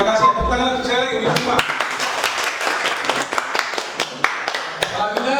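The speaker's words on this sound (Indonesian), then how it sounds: "Tepuk tangan untuk saya lagi" A classroom group applauds, with a burst of many hands clapping quickly and unevenly, loud and close, after a voice briefly speaks at the start.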